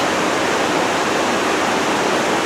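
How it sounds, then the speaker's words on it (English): Water pours loudly through big drainage culverts by a bridge, a constant roaring rush that fills the scene without any break. "They got some big culverts there for the water to run through from just where it drains."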